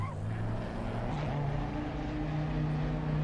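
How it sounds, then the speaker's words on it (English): A Lamborghini GT3 race car engine drones in a sim racing game at Kyalami, a steady low hum with shifting tonal pitch held at a turned-down volume, fairly faint and continuous. "I will also turn down the engine a little bit."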